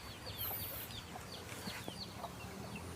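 Laying hens cluck softly inside a coop, with scattered short calls at a distance over a quiet, hissy background.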